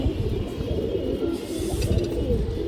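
A red-eyed high-flyer pigeon coos in low, throaty pulses close by, with a continuous rumbling murmur and no talking.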